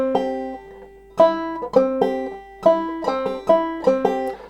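Clawhammer banjo playing a short bar of the fiddle tune Fire on the Mountain, bright plucked notes with ringing decays in a steady picking rhythm, close and clear with no talking.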